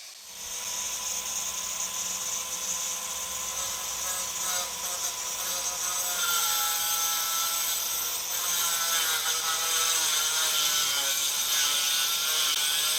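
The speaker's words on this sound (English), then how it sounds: "We're going to cut all the way through the stucco and the block to prevent spider cracking" A power saw cuts steadily through a stucco-covered concrete block wall, a continuous loud grinding whine that runs unbroken from corner to corner with no voices over it.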